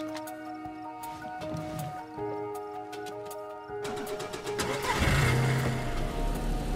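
A car in the DayZ video game cranks and catches a few seconds in, then its engine settles into a steady mid-pitched idle and builds slightly. Quiet ticking and faint ambience come before it.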